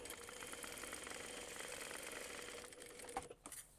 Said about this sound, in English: sew down either side of your seam, making sure it stays open